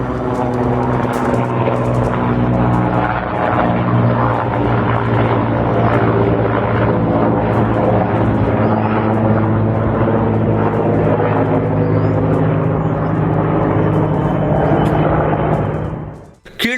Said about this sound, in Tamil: இன்று காலை விமானப்படை ஹெலிகாப்டர் பழுதான ஹெலிகாப்டரை தூக்கி மேலே பறந்தது